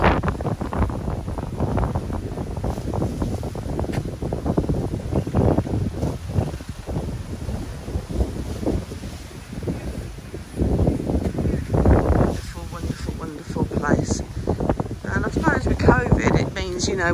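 Strong wind buffets the microphone on a beach at Mamora Bay, Antigua, a loud continuous roar with gusty surges and rustling throughout, and speech is heard within it.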